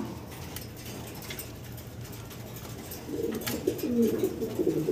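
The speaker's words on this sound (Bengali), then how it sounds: "সিঙ্গেল সিঙ্গেল দুইটা কবুতর ভাই" Two single pigeons, a German cropper among them, give low cooing calls at close range, growing louder in the second half over a steady background murmur.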